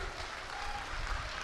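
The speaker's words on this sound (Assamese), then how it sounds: "চাপৰি ৰাইজ" A brief burst of audience applause after a live cover of an Assamese romantic song: a dense, even patter of many hands clapping, fairly faint and a little distant, with no voices over it.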